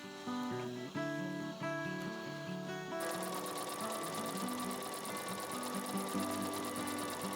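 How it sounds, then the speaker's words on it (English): A lightweight sewing machine top stitches a thick wool belt over Petersham, starting with a steady rhythmic hum of the needle and then breaking into a louder, faster, harsher chattering run close by. "I ended up rolling the raw edges over the Petersham and top stitching it in place"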